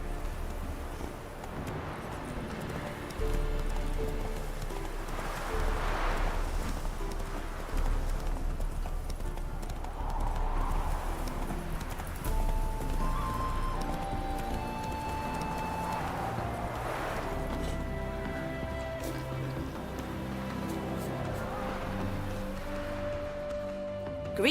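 Horse Roach trotting in The Witcher 3: Wild Hunt, a continuous rhythmic clip-clop of hooves over ambient outdoor game sound, moderately loud, with no talk.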